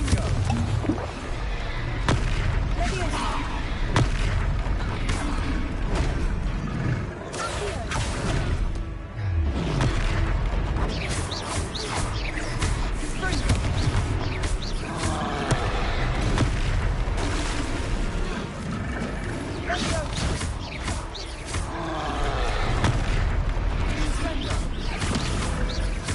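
Confringo blasting spells explode again and again in a wizarding video game, a continuous barrage of booms, crashes and whooshes that stays loud and busy throughout, with faint voices mixed in.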